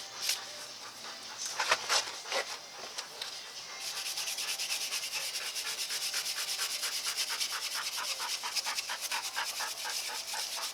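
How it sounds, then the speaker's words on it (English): A wire brush scrubs rust off the wheel hub of a 1999-2006 Chevrolet Silverado, starting with a few scattered scrapes and then settling into fast, continuous close-up brushing with a dense, gritty rasp. "I'm just going to take this wire brush, give this a little buffing, just to kind of clear some of this rust off"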